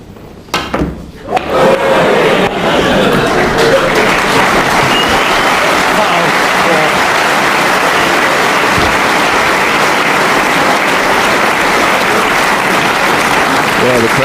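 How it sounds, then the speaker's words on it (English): Sustained applause from a snooker crowd after a 114 break at the 2007 World Snooker Championship, starting with a few isolated knocks then swelling into steady, full clapping that holds loud and even throughout. "the crowd very appreciative of that tremendous break of 114"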